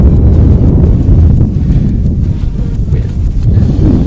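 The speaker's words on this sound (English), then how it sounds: "the wind is blowing and it's not stopping anytime soon" Strong wind blows on a mountain near Pikes Peak in Colorado, a steady, loud, rumbling roar buffeting the microphone throughout with no letup.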